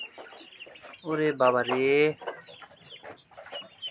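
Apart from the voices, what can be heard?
ducklings calling in the evening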